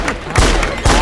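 Gunshots fired in celebration crack out loud and close, two sharp bursts in quick succession.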